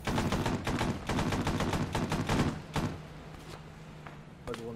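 Rapid automatic gunfire rattles in a military video game battle, dense bursts for a few seconds that thin out, then a lone shot near the end, loud and close.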